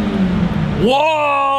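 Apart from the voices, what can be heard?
Honda Integra Type R engine revving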